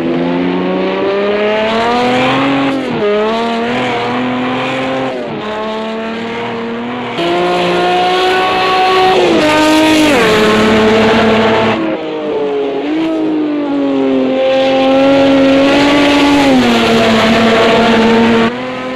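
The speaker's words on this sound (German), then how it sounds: "ihr wollt auch natürlich ein bisschen was vom Motoren-Sound hören" Porsche 917 K with its V12 engine lapping Spa in Project Cars 2, a loud continuous racing howl that rises through the revs and drops sharply at each gear change, repeated again and again with no talk.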